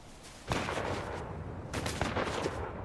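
Gunfire in the video game Fortnite crackles as bursts of distant shots, two clusters of rapid reports under a faint, noisy background.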